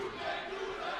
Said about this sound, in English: I'm just listening to crowd on the other side.